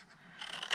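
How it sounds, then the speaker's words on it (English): Scissors cut cardstock for a handmade gift box with a brief, soft snip that grows slightly louder toward its end, heard alone and close by. "We're just going to go to the other side of it and cut it straight to the second score line"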